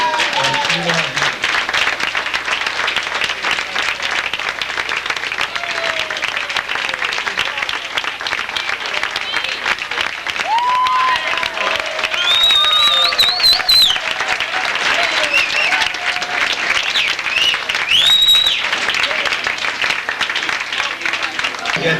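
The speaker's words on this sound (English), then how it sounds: "applause" A banquet audience at a 50th anniversary celebration gives a long, sustained round of applause, loud and continuous for over twenty seconds, with whoops and cheers rising through it.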